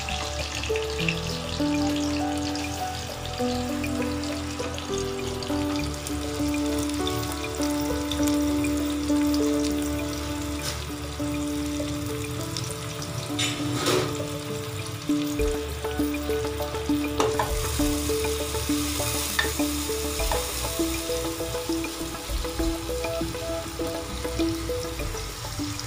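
Onions fry in hot ghee inside a pressure cooker, a steady crackling sizzle with occasional stirring scrapes and soft bubbling that runs unbroken for nearly half a minute, close and moderately loud.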